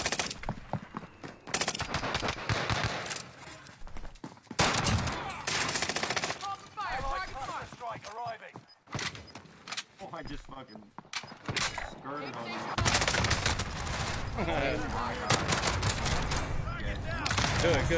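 Gunfire in the video game Call of Duty: dense bursts of automatic fire and scattered single shots crackle over game effects, with players talking over the action throughout.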